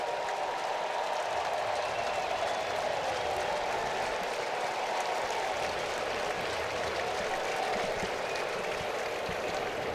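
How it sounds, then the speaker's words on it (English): Ballpark crowd at Nationals Park applauding former National Victor Robles on his return during a Mariners–Nationals MLB game, a broad, distant wash of clapping and cheering that holds steady throughout. "Nice round of applause here for Victor Robles, former National, making his first return to Nationals Park."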